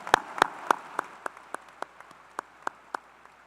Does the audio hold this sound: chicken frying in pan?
no